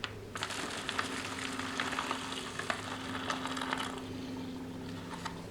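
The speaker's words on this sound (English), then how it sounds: "We'll give that a stir." Rehydrated MRE chili being stirred inside its pouch, a continuous soft wet churning and crinkling with steady texture throughout, close and fairly quiet, no voices.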